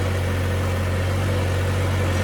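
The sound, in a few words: tractor engine running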